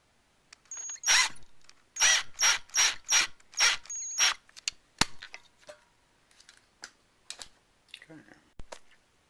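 A ratchet drives a screw into a Lifetime dual compost tumbler, giving about six close, rapid bursts of ratcheting clicks followed by scattered, fainter single clicks.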